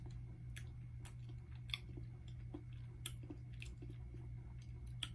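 Close, quiet chewing of canned Chef Boyardee ravioli, beef or chicken, with soft wet squishes and occasional sharp smacks recurring irregularly over a low steady hum, no talking.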